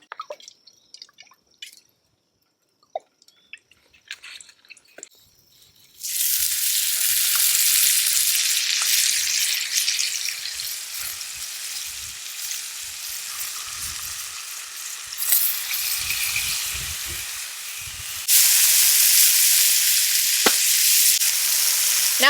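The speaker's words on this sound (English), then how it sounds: "add a little bit more oil to that pan and put our fish on" Fish hitting a very hot oiled pan on a wood stove, a loud sudden sizzle that starts after a few quiet clinks and spits steadily, swelling louder again near the end.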